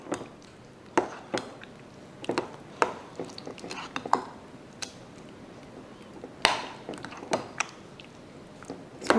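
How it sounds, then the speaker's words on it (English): Big spoon stirring corn souffle batter with butter pieces in a bowl, giving irregular clicks, scrapes and taps against the bowl, close and fairly quiet with soft room noise between strokes. "Bigger spoon here. Mix this all together."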